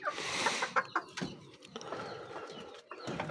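Cochin chickens clucking and cooing in a garden, several birds calling close by in short irregular bursts, fairly quiet with no talk over them.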